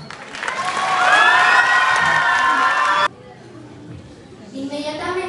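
A large family-day audience breaks into loud applause and cheering that swells and holds for a few seconds, then cuts off abruptly into quieter background with a voice speaking.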